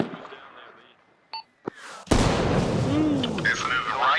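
Mortar rounds land in a military video game: two short sharp cracks, then a heavy boom that rolls into a sustained rumble, close and loud. Voices are heard during it.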